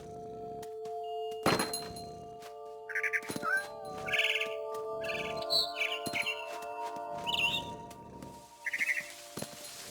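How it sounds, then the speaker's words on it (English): Short bird chirps and tweets from the video game What Remains of Edith Finch repeat in bursts over a quiet background with steady electronic tones and occasional thumps. "Then I heard chirping outside my window."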